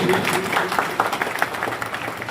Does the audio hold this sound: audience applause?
yes